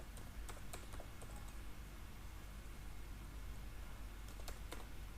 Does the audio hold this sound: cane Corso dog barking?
no